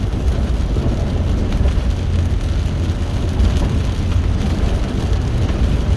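Rain and road noise inside a vehicle driving the muddy BR-230 Trans-Amazonian highway between Itaituba and Apuí, a steady, loud, dense wash of low rumble and hiss that stays constant with no voices.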